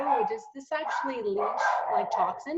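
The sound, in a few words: dogs barking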